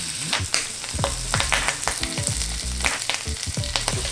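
A sous vide steak sears in a hot pan, giving a loud, close, crackling sizzle with irregular sputtering pops and occasional scraping or shifting sounds, and no voices.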